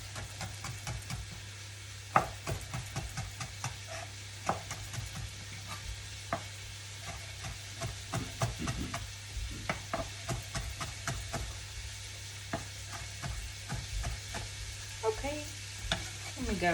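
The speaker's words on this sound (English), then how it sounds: "Even though they're cooked, we're still going to put them in at the same time and they should break up nicely into the sauce" Cooked peppers for a peperonata are stirred into sauce in a pan, giving a steady close sizzle with frequent clinks and scrapes of a utensil against the pan, no talking.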